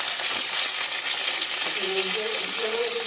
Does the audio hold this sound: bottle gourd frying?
yes